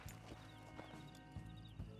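Video game horse hooves clip-clop in a steady rhythm in Red Dead Redemption 2 roleplay, joined by a horse's neigh, all against a constant synthetic background hum.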